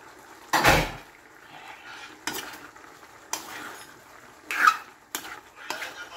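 A lid is set onto a pot of simmering chicken afritada on the stove, giving a few separate metallic clanks and clatters against a quiet kitchen background, with no one speaking.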